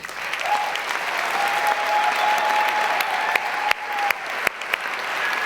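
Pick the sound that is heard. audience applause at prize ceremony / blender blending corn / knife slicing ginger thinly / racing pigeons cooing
audience applause at prize ceremony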